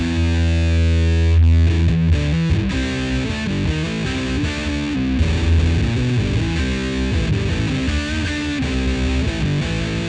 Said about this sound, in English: flip on the fuzz switch here. You can hear it's a bit more gainy even than that, and it's genuinely fuzz